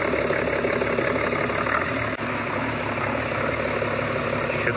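A car engine idles roughly with misfiring cylinders, its steady mid-low drone continuous and close, with one brief dip partway through; no one speaks.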